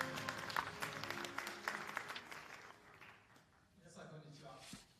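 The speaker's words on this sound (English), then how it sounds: "Please welcome Mr. Hayano with a round of applause." Audience applause at the Tokyo Marathon 2024 press conference, a steady round of clapping filling the room for the first few seconds before fading, with a voice speaking at the end.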